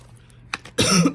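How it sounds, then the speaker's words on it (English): A single harsh cough bursts out after a couple of faint, short throat sounds, close and fairly loud. "even with that cough"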